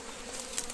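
Italian honeybees swarm and buzz during a traditional smoke honey harvest, giving a dense, steady hum close by with a few louder passes near the end.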